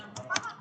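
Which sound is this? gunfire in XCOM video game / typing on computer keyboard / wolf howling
typing on computer keyboard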